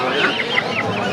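Chickens and roosters clucking at a duck and chicken market in Mirpur, a quick run of close, repeated clucks over busy background noise.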